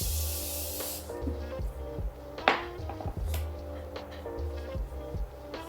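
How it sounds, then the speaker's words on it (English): Morphe makeup setting spray gives one short, close hiss of mist over quiet background music, followed by soft handling noises. "let's finish it up with a setting spray from Morphe."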